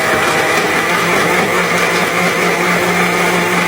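A household kitchen blender whirs steadily at full speed, loud and close, as it blends a milkshake of chocolate, peanuts and milk. The motor roar stays constant for the whole stretch, with no voices.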